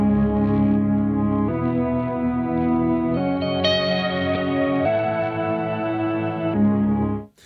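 A Strymon NightSky reverb pedal sustains a thick, shimmering layered drone whose chords shift in stepped jumps every second or so as its step sequencer runs, the wash swelling steadily before cutting off abruptly at the end.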